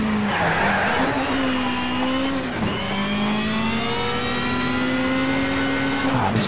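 A race car in the video game Shift 2 braking hard, engine whine dropping and surging with tyre squeal and skidding, loud and close throughout with no voices.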